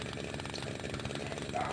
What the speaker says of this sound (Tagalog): So, umandar po yung ating grass cutter sa pamamagitan po ng pagbasag ng ating spark plug